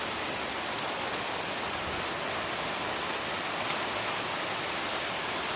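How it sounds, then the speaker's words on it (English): Somewhat heavy rain falls steadily at night as Hurricane Irene approaches, with no wind. The hiss is dense and even and continues unbroken, with no voices. "Just somewhat heavy rain."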